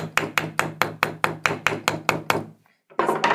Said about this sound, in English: what you would use is your nylon hammer.